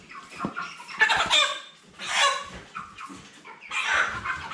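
Hefty 40-day-old Cobb 500 broiler roosters cluck and squawk close by in a series of irregular, raspy calls.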